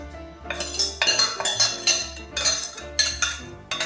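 A metal spoon scrapes and clinks against a pot in repeated stirring strokes through sautéed vegetables and beetroot, close and fairly loud, with no talking.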